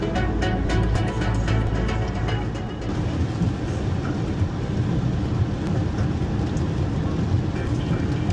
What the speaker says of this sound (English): It's raining, and we don't really have rain gear.